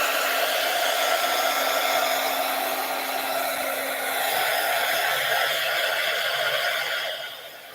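A hair dryer blows loud and steady at close range over hand-decorated wrapping paper, a constant rushing roar that fades slightly near the end.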